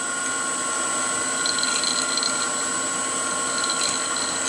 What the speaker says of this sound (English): now I've got the speed turned up a bit on the lathe